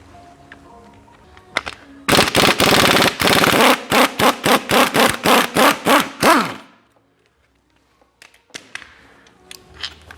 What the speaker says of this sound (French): on va dévisser tout le tour de boîte